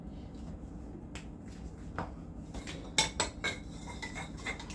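Vanilla and cinnamon being stirred into a Jamaican sweet potato pudding batter, a few sharp metallic clinks of utensil against the bowl standing out near the middle over a low steady background.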